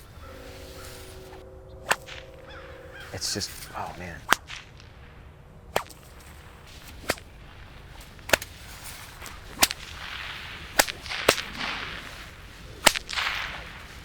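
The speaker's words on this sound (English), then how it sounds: "So I'm just gonna have a little bit of fun with this whip here today" A tapered twist whip cracks about ten times at irregular intervals, each a sharp, loud snap with echoes, and someone speaks briefly between cracks.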